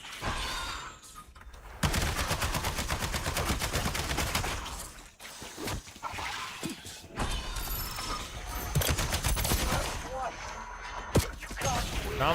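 Dense rapid-fire video game gunfire rattles in sustained bursts with mechanical clatter and impacts, while a voice talks over parts of the fighting.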